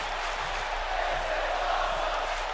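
Arena crowd in the wrestling video game WWE 2K during a Jon Moxley versus Finn Balor match in Vancouver, a dense continuous roar of voices with a chant swelling underneath.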